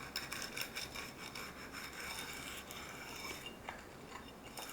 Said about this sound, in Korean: 지금 선생님이 여기 테두리 부분에만 이렇게 60번 사포를 이용해서 해줬습니다